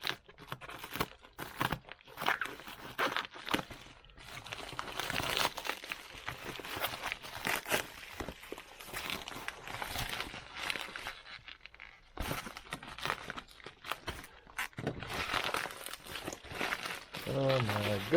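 Scissors cut through plastic packaging on a Taser Pulse, making intermittent snips, crinkles and tearing rustles close by, with people talking throughout.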